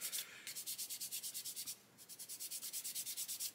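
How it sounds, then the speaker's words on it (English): Quick, rhythmic strokes of a flat 400-grit sanding stick rub lightly against a plastic 1/32 scale model aircraft cockpit part, close and soft, in two bursts separated by a short pause. "As I say, I'm just very gently sanding"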